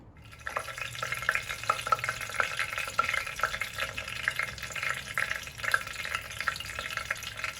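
Mustard seeds, fenugreek and split lentils fry in hot oil for a bottle gourd tamarind curry, giving a dense, steady crackle of small pops and sizzling close by, with no talk.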